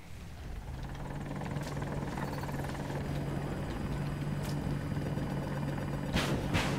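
Continuous rotor and engine drone of a helicopter in Battlefield 2042, a steady low thrum with a few sharp impacts and bursts over it, especially near the end.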